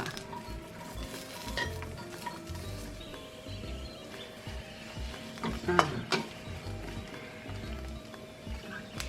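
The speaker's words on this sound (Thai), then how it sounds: "ส่วนพริกเขียวนี่เราก็จะคั่วๆอย่างนี้นะคะ" Green chillies dry-roast in a pan for a spicy Thai chilli paste, stirred with a utensil that produces repeated close scraping and clacking over a faint sizzle, with a sharper clatter midway.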